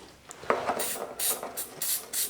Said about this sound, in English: Then just spray it in.